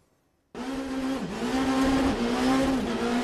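Small rallycross race cars roar on a closed circuit in the Alps, with a loud engine note that bursts in after brief quiet and rises and dips through gear changes.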